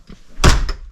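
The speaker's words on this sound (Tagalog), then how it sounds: "Ilock lang natin yung pinto." A household door shuts with a single solid thunk, followed a moment later by a short click of the lock being turned, close and alone.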